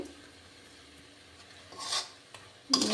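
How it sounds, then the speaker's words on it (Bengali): Poppy seed and cashew paste is sautéed with spices in a pan for a Kashmiri-style spicy pomfret curry: a steady rasping, scraping stir with soft sizzle beneath, rising into louder scraping bursts toward the end. "পোস্ত আর কাজু বাটাটা দিয়ে দিচ্ছি সবগুলোর সাথে আবার ভালোভাবে মিশিয়ে কিছুক্ষণ কষিয়ে নেব"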